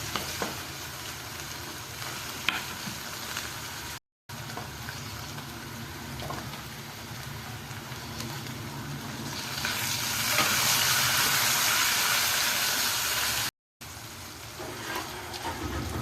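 Tomatoes and ginger-garlic paste fry in a pan for a ridge gourd and potato dish, with a loud continuous sizzle and scraping stirs that swell midway. Two brief dropouts interrupt it.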